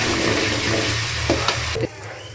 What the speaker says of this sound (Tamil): எண்ணெய் சூடாகணும்னா இஞ்சி பூண்டு பேஸ்ட்டு போட்டிருக்கோம்